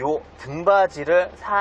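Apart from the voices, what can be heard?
No everyday noises stand out.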